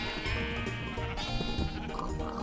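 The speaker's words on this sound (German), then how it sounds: "Kommet her, ihr Schafe und ihr Kühe." Sheep bleating in the Minecraft video game, several overlapping bleats close together over a busy background of other game sounds.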